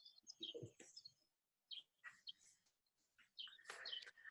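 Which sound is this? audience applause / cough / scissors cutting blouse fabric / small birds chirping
small birds chirping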